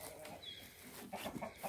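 Backyard chickens cluck softly in a garden, a few short low calls and murmurs close by over a faint outdoor background.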